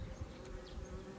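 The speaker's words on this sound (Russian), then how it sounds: "чтобы все-таки пчелки работали на этих цветках и завязывали здесь плоды" Bees buzz among the flowering apple trees in a spring fruit orchard, a faint, steady insect drone with nothing else heard.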